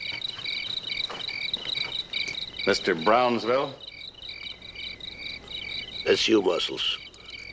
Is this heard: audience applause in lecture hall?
no